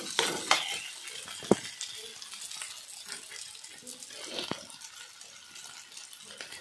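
Crab fried with spices in oil, with a soft sizzle beneath irregular spatula scrapes and a few sharper clinks against the pan; close and quiet, with faint background voice.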